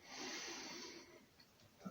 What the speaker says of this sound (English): we always breathing in through the nose, deep into the chest, and out through the mouth